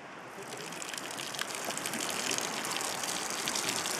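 Liquid poured out slowly from a container outdoors while preparing red caviar at a field camp, a soft continuous gushing splash that builds slightly and holds steady, fairly quiet and close, with no talking.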